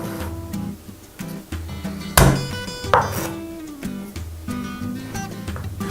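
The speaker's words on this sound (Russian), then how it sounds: "Чеснок мы рубить не будем, мы его просто вот так вот хорошенько раздавим." Garlic cloves are crushed flat with a blade for osso buco, giving two sharp, close thumps about a second apart over steady background music.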